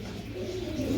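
English Trumpeter pigeons coo in a low, steady murmur, a close, continuous rumbling call that holds for the full second with a faint voice underneath.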